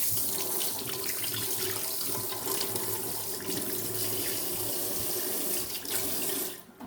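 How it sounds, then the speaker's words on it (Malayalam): Running tap water splashing steadily into a sink while a papaya is washed, a loud, continuous close rush that cuts off near the end. "നമുക്ക് ഈ പപ്പായയും കൂടി ഒന്ന് കഴുകി കറ അതിലിരുന്നത് മോശമാവും."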